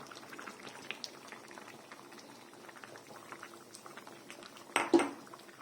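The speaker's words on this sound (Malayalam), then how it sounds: "വീണ്ടും ഒരു അഞ്ച് മിനിറ്റ് നമുക്ക് ചെറുതീയിലിട്ട് വീണ്ടും നല്ലവണ്ണം വേവിച്ചെടുക്കാം" Fish curry with ground coconut paste bubbles gently on low heat, a quiet, soft patter of simmering with a louder clatter near the end and no talking.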